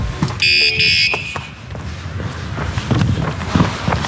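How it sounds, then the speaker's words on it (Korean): A loud electronic bicycle anti-theft alarm beeps in short piercing tones near the start, then stops, leaving street noise and scattered footsteps. "전부 다 경보기를 달아놨는지 소리도 엄청 큽니다"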